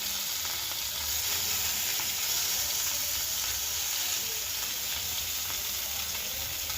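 Rohu fish fries in a little hot oil on a tawa, making a steady, close, loud sizzle and crackle that never lets up, with no talking.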